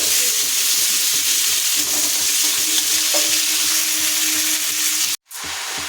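Vegetables and cabbage fry in a pan with a continuous loud, close sizzle and faint stirring underneath, ending in a brief sharp knock followed by a short drop to quiet.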